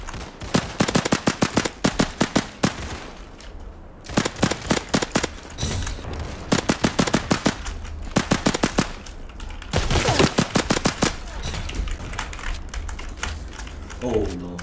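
Suppressed gun firing in the video game Criminality: rapid bursts of clipped, close shots in four clusters separated by short pauses, with low background noise and no talk.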